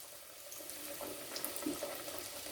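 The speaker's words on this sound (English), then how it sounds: "And they're going to sizzle straight away." Plaice goujons dropped into hot deep-fat fryer oil give a steady, moderately quiet hiss and sizzle with a few faint crackles, no talking.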